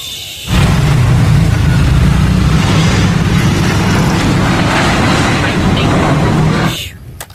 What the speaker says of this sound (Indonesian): ini pesawat kargo Garuda Indonesia